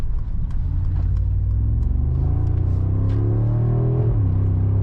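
A 2025 Mercedes-AMG G63 facelift's V8 accelerates under partial throttle, a loud, steady engine drone whose pitch climbs smoothly for several seconds, then dips briefly before settling, heard from close by.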